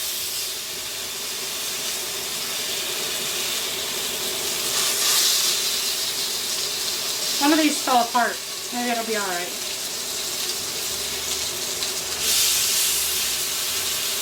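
Filet mignon sizzles in a cast iron skillet as a steady loud hiss that swells briefly and again near the end, with a person speaking for a few seconds midway.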